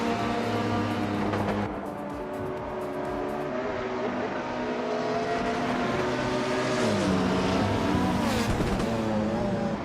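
Race cars in a racing video game whine through gear changes, with several overlapping engine tones rising and falling in a constant loud roar and no break.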